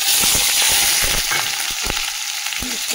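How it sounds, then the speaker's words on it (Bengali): Onions fry in hot oil with cumin and bay leaf in a wok for aloo dum, making a loud, close, constant sizzle broken by repeated knocks and scrapes of stirring, with no speech. "পেঁয়াজটা ভেজে নিই"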